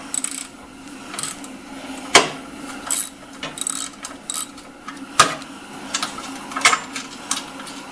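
A ratchet fitted with a 1/2 inch socket loosening a bolt on a Troy Bilt 42X riding mower deck, rapid metallic clicking in short irregular bursts with sharp clanks, close-up and without talking.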